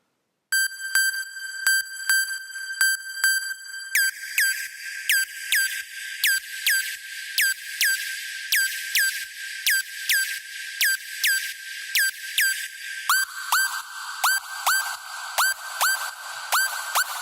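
A bright synth lead of mixed square and sawtooth tones, pitched up 12, plays a rapid repeating moombahton arpeggio at steady pitch, dropping lower near the end, with no voices.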